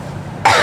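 A single short, sharp cough bursts out abruptly after a moment of quiet room noise, close and loud.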